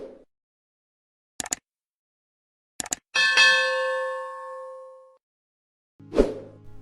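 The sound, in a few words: notification bell sound effect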